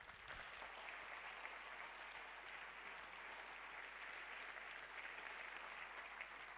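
Crowd applause at the Béarnais de l'année 2022 awards ceremony, dedicated to people who marked the history of Béarn: a continuous, fairly faint patter of clapping from a distant audience, even in level from start to finish.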